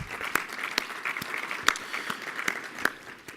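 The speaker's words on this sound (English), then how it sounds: "Yeah, you can clap for that too." Light, scattered clapping from an audience at a community report event, a few sharp individual claps standing out over a soft, sparse background of applause.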